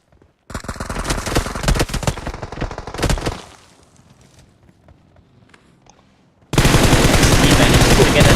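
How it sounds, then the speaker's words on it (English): Rapid automatic gunfire in the battle royale game PUBG during a tournament finals match, loud dense bursts for about three seconds, then a quiet stretch before another heavy wall of shooting. "there's been shots being fired from all directions"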